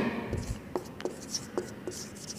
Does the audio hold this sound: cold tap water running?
no